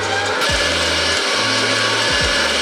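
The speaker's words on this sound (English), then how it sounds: "I'm gonna whisk until stiff peaks form" Stand mixer whisking egg whites and sugar, a steady loud whir with a low motor hum that dips and restarts in repeated cycles, close up with no talking.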